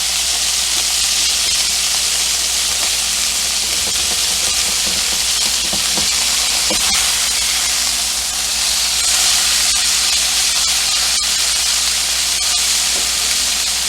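Pan-seared salmon fillet with its skin crisping sizzles steadily in a hot pan, a dense continuous hiss and spatter at close range with no talking.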